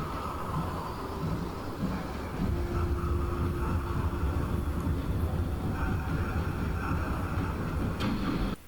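A steam train hauling its coaches rumbles steadily past, a loud continuous rolling roar that swells a little midway, with no voices over it.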